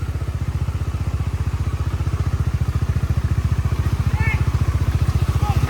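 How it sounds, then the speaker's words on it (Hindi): A Bajaj Dominar 400 motorcycle engine thuds in a steady, rapid rhythm while riding rough off-road terrain, loud and close throughout, with faint voices briefly rising over it near the end. "भाई ऐसी rough and tough of road पे चलती है ये बाइक"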